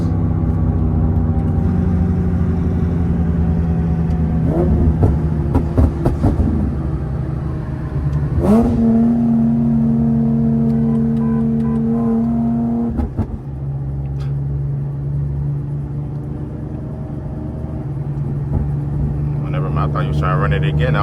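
An Infiniti G37 and a Nissan 370Z with loud exhausts race from inside one car, the engine droning and surging through revs with a couple of sharp shifts, a steady low rumble throughout.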